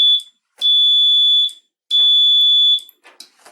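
A relay-based safety alarm for a mechanical jam system sounds loud, piercing electronic beeps in two long bursts with short chirps between them, close and with no talk.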